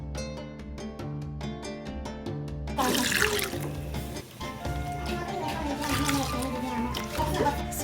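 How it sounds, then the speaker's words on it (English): Yam being washed by hand in water for a Ghanaian dish: after a few seconds of music, close sloshing and splashing begins and continues in irregular bursts, with the music still playing underneath. "so we'll wash the yam now."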